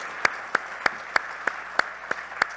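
Audience in the Mexican Senate claps in slow, evenly spaced unison beats, roughly three per second, over a soft background hum, steady and moderately loud throughout.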